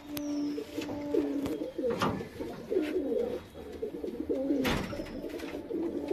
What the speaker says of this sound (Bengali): উড়ানো পায়রাগুলো আমি এইভাবে রাখি